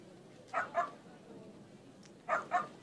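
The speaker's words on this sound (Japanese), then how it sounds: "このまま吠えてばかりいると殺されちゃう。" Two pairs of sharp, close dog barks in the video game Like a Dragon: Ishin, each pair a quick double woof, separated by a quiet stretch with faint background ambience.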